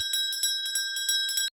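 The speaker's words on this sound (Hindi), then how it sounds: "कहाँ से घंटी बज रही है।" A cartoon bell rings in quick repeated strokes, a bright metallic ringing with sustained high tones that runs loud and even, then cuts off abruptly.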